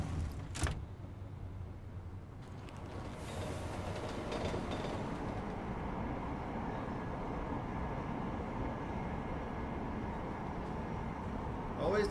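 A train ride in Deus Ex: Mankind Divided, a steady low rumble of rolling carriages and track noise that carries on evenly throughout, with a brief knock at the start and background voices under it.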